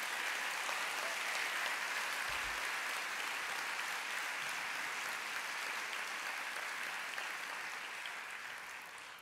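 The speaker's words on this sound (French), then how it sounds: "vous pouvez les applaudir" An audience at an opening speech claps in steady, sustained applause that fades slightly toward the end.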